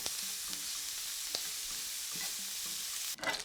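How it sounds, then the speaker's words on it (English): Bacon sizzles steadily in a pot with leftover beef burger juices at a street food stall, a constant hiss broken by light stirring clicks, with a clunk near the end. "We'll put the bacon on, give it a nice little sizzle, let it get some of the juices"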